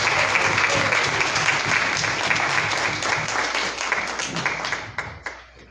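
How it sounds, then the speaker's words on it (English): A church congregation applauds a newly inducted vice president, a dense sustained clapping heard from within the room that holds steady, then thins out and fades over the final second. "Let's give him a round of applause."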